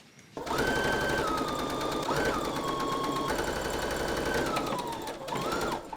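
Sewing machine stitching the sides of a pocket closed, a loud, steady motor whir with rapid needle clatter running for several seconds, briefly slowing and restarting a few times before stopping.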